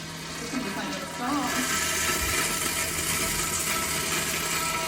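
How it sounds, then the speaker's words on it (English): Toilets flushing and water running from leaky plumbing in a long-vacant building, a steady rushing of water that swells louder after about a second and continues, with voices talking faintly underneath. "We got toilets flushing."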